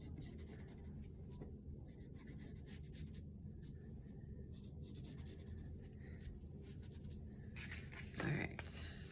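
A pencil draws lines on paper with a soft, continuous scratchy rubbing, heard up close over a low background hum, with a slightly louder stroke near the end.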